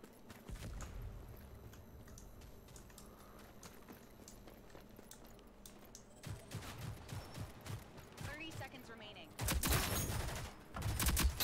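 Gunfire from weapons in the team shooter video game Rogue Company, with scattered shots building to a loud burst of rapid fire near the end over a steady game backdrop.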